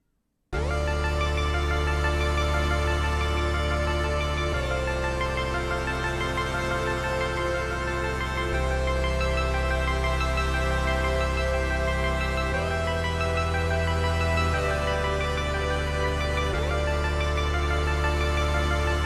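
Sustained sci-fi synth chords from the KASPAR synthesizer app, rich and harmonically dense, shifting to a new chord every few seconds and ringing loud and continuous with no talking.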